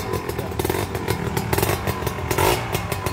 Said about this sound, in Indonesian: Serius, ini halus, suara mesinnya halus.